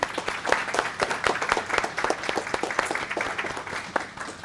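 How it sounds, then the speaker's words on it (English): An audience breaks into a round of applause, dense clapping from many hands filling the room at a steady level throughout, fairly close and without talk over it. "So give yourselves a really nice round of applause"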